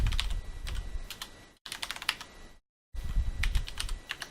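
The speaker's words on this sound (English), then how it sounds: "It's a new mechanical keyboard." Clacky keystrokes on a new mechanical keyboard, typed in three quick bursts with two short pauses of silence between them, close and fairly quiet with no talking.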